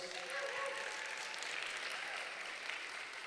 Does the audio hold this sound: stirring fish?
no